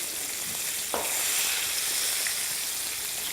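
Fish dusted with flour browns in a frying pan, a bright, steady, close sizzle with a few soft clinks and scrapes from a utensil and no talking.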